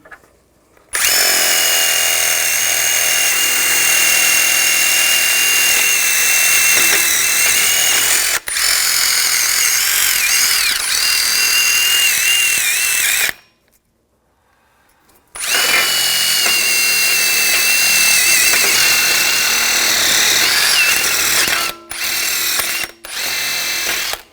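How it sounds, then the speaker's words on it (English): A powered wire brush scours rust and corrosion off the rear hub surface of a 2021-2023 Jeep Grand Cherokee L during a brake job, a loud, steady whirring grind running in two long bursts with a short pause between. "using a wire brush, we're just going to clean up the hub surface"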